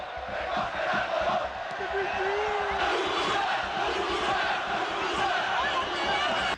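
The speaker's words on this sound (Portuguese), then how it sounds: "cantos e gritos como esses eram comuns em todas as arquibancadas do país" Real Madrid supporters in a 1990s Spanish stadium chant and shout together, a dense, loud crowd roar that holds steady throughout, with rising cries and whoops layered over the sustained mass of voices.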